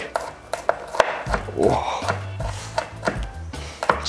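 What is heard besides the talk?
knife chopping garlic on a cutting board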